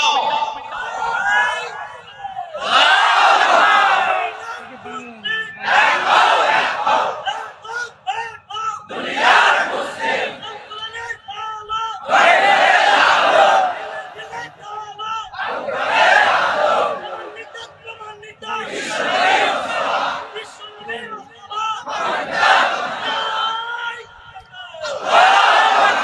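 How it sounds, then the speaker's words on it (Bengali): A large crowd at a religious gathering loudly chants the takbir in repeated call-and-response bursts, each roaring shout rising and falling with short pauses between, a lead voice calling out before the mass reply. "জোরে তাকবীর দাও।"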